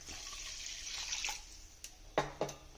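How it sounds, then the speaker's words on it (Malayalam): Water is poured into roasted ragi flour in a hot pan, a soft splashing trickle followed by a few sharp sizzling bursts near the end, close and fairly quiet. "ഇനി നമുക്ക് ഇച്ചിരി വെള്ളം ഒഴിച്ചു കൊടുക്കാം."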